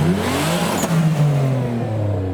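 A car engine revs up and settles, a steady mid-pitched drone with rising and falling pitch sweeps, close and fairly loud.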